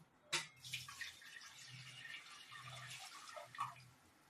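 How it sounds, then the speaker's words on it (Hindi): Water from a small lota jug poured into a cooking pot that held curdled milk for chhena, a steady splashing pour with a few drips and faint kitchen clatter, close and alone. "जो पतीला में मैं दूध फाड़ी थी इसी पतीला में मैं 1 लोटा पानी डालूंगी।"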